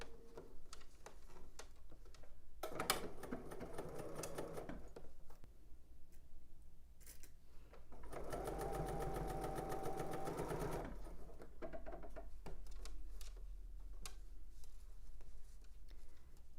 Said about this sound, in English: All right, so I'm stitching 1/2 inch around the neckband.